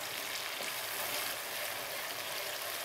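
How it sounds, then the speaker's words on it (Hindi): Whole cinnamon, green and black cardamom and cloves roast in a hot pan, giving a steady, dense, even sizzle with no pauses and no talking. "इनको डालने के बाद भी हमने थोड़ी देर के लिए इनको भूनना है।"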